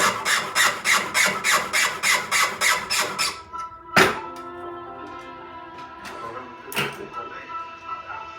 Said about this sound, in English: cut to half round ring file to take the beveled edge that the cutters produce off the end of these pieces of wire